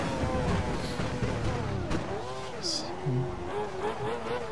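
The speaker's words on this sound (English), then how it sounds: "You're getting a lot of lockups on your front right tyre." Formula One car in the F1 2012 video game on the Valencia street circuit, its engine whining and swooping in pitch as it brakes, with brief tyre-lockup squeals, all under music and background sound.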